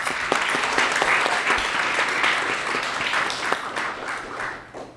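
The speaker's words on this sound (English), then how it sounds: "let's give her a big round of applause" Loud, dense applause from an audience at a memoir launch for Ashook Ramsaran's 'Beyond Expectations', sustained and steady for several seconds before tapering slightly at the end.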